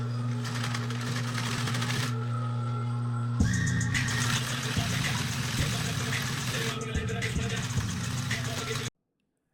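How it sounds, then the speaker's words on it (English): Sewing machine stitching truck passenger seat upholstery pieces together, a steady close mechanical whir that runs continuously, pauses briefly, then resumes with some handling knocks before stopping abruptly. "I'm just going to bring them to the machine and sew them all together."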